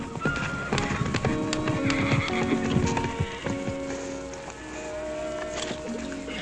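A horse whinnies and its hooves clip-clop close by amid other busy outdoor western ranch sounds, steady throughout with no talking.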